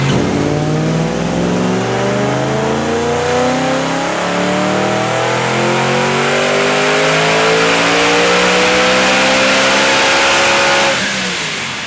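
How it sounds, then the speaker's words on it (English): A supercharged BMW E90 M3 engine revs hard on a dyno, climbing steadily in pitch for several seconds under load with a loud blow-off valve, loud and close, then drops off at the end. "That blow-off valve is so loud."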